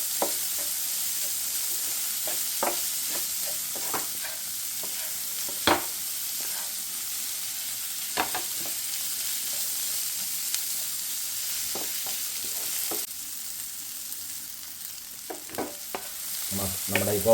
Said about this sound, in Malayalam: ഒരു 15 മിനിറ്റ് വരെ നമ്മൾ ഇതിലിട്ട് മസാല ഇട്ട് മിക്സ് ചെയ്യണം